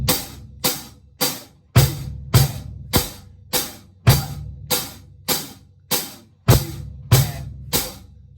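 A rock drum beat with the hi-hat struck on every eighth note, about a dozen crisp, evenly spaced hits with short decays, some landing with a low kick thump, close and alone.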